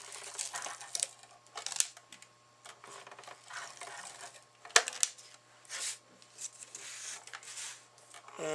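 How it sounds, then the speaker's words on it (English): An ATG tape gun applies adhesive tape to the back of a handmade card, giving intermittent clicks, ratchety rasps and a sharp snap near the middle, close and fairly quiet with pauses between passes. "take our ATG gun and get some tape on the back"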